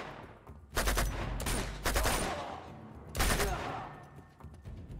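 Rapid gunfire bursts from a firefight in the video game Uncharted 2, loud and close, arriving in two heavy volleys with a quieter stretch between them and a few scattered shots near the end.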